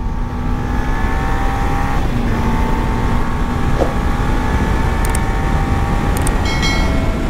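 A motorcycle rides along a road, its engine a steady continuous drone with faint wind noise, close and constant throughout, with no voices.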